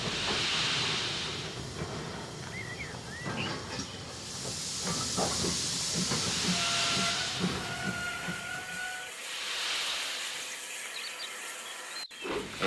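Steam hisses in repeated bursts from a steam train, with mechanical clanks and a faint whistle-like tone between puffs.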